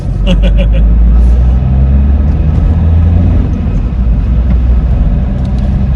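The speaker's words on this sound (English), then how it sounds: "You can probably hear the front brakes need doing." A Vauxhall with front brakes worn down to metal on metal drives along with a steady low engine and road rumble, short scraping squeals rising near the start over the continuous cabin drone.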